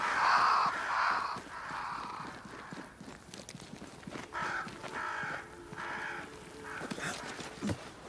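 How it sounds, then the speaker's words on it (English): Crows cawing in the video game Banishers: Ghosts of New Eden, harsh calls rising over a steady outdoor ambience with horse hooves clip-clopping and other game sounds mixed in. "Crows. They flock to that great tree up there."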